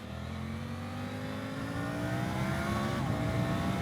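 A 2024 Triumph Tiger 900 Rally Pro motorcycle engine pulls hard on the road, its tone rising steadily as it accelerates, loud and close, with no voices.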